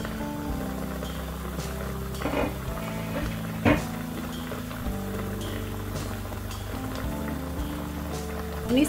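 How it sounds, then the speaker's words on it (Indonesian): A duck simmers in plenty of water in a pot, giving a steady, near bubbling and watery patter with a few louder splashes and clinks; no one speaks. "dikasih air yang banyak, direbus sampai bebeknya empuk ya"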